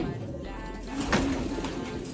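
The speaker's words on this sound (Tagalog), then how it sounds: "Papares natin to sa ating mga 2 years old na kalapate." A seven-year-old grizzle pigeon from a champion line coos once, close and clear, in a soft resonant burst over a steady low background hum.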